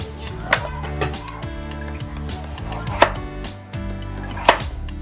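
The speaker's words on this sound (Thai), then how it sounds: "ควรจะหั่นไปเรื่อยๆนะคะ" Several distinct knife chops through potatoes land on a board at irregular intervals, crisp and close, over a steady musical background.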